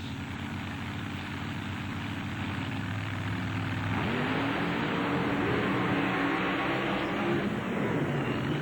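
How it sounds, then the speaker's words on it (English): A drag racing car launches down the strip at an NMRO drag race in Lima, its engine a loud, steady roar that surges and rises in pitch midway through. "Finley comes out there like a rocket."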